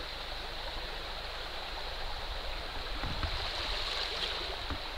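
River water flows and gurgles around someone standing in it, a steady close rushing wash with small splashes and a faint high whistle partway through.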